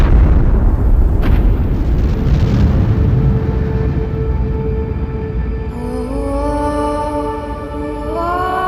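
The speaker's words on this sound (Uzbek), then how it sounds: "Yulduzning yoqilg'isi tugashi bilan u milliardlab quyosh yorqinligida portlaydi." A star exploding as a supernova, rendered as a loud, sustained rumbling blast with a roaring low-end swell that eases into a rising tonal hum and shimmering drone.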